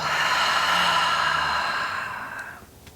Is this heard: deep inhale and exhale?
yes